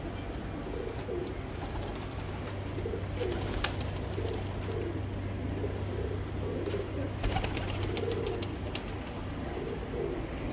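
Lal Pari pigeons coo repeatedly on a rooftop, a run of low throaty rolling calls over a steady hum, with scattered clicks and light rustling.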